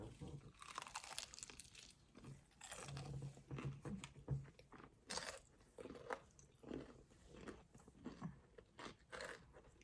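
Close crunching bites and chewing of crispy fried chicken drizzled with hot sauce, faint crackly crunches and mouth sounds repeating irregularly, with some quiet vocal sounds mixed in.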